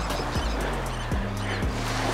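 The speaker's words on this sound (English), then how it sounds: "Got a bunch of birds." A flock of birds on a beach, giving repeated honking, goose-like calls in quick overlapping bursts over a steady wash of surf and wind.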